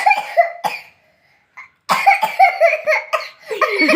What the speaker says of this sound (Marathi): चुकून खोकला आलं ते चुकून झालं.